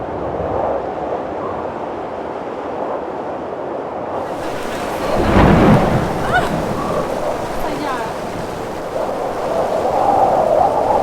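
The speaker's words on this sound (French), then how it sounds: "c'est comme le vent plus les éclairs, la pluie" Steady rain and gusting wind roar throughout, with a deep rumble of thunder swelling midway; continuous and fairly loud.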